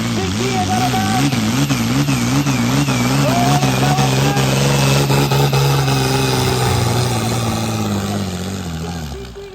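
Diesel car revving hard and accelerating at a racing event, a loud close engine note climbing and wavering through gear changes, with crowd or commentary voices underneath.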